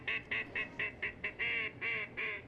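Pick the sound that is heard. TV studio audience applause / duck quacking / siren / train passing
duck quacking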